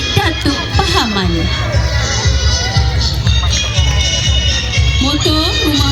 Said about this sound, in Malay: Mari kita sambut dengan sorakan paling kuat